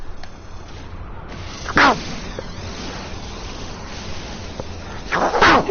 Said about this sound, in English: I'm going to sneeze, hang on.